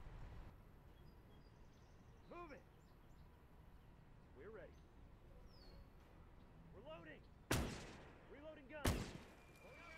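In the Gates of Hell war game, a mortar bombardment lands as two sharp, loud blasts near the end, following quieter stretches with distant rumbles and a faint whistling.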